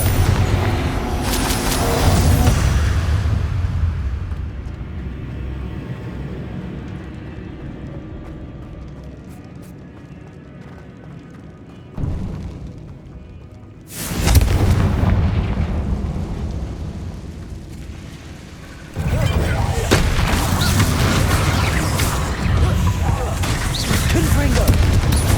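Confringo blasting spell explosions in Hogwarts Legacy, heavy booming blasts in loud bursts separated by a quieter stretch, followed by a sharp crack and sustained rumbling impacts.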